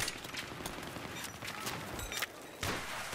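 Gunfire in Battlefield 3, a fairly faint, rapid volley of shots crackling in distant bursts over a noisy battlefield wash, with a couple of louder cracks near the end.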